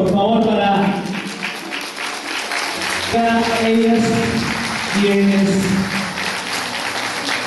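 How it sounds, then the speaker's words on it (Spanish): Audience applause at a municipal homage ceremony for senior citizens in Paramonga, moderate clapping sustained under someone speaking Spanish over a loudspeaker. "Pedirles a ustedes un fuerte aplauso,"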